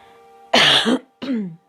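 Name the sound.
cough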